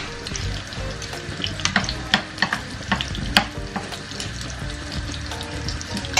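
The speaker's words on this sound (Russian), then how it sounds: "Жарятся, в принципе, они быстро, куриное филе, ну, вы знаете сами." Chopped chicken fillet cutlets frying in a pan, a soft continuous sizzle broken by scattered sharp pops and clatters of stirring, close and moderately quiet.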